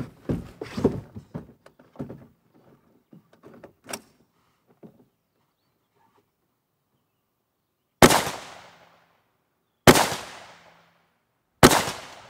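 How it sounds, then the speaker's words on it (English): Three loud, sharp rifle shots fired at roughly two-second intervals during a timed postal match demonstration, each with a decaying outdoor echo, following earlier faint shuffling and handling noises. "shoot on multiple targets, reload and re-engage in a limited time frame"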